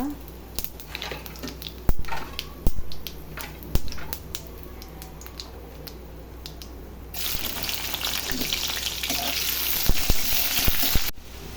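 Cumin seeds and bay leaf tempering in hot oil for a potato and pointed gourd curry, a brief sparse crackle with clicks of utensils that swells into a loud, steady sizzle in the second half.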